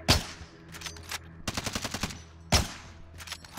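Automatic gunfire in Call of Duty: Modern Warfare, close and loud, in three rapid bursts of shots, each opening with a sharp crack followed by a quick rattling string of rounds, with short pauses between bursts.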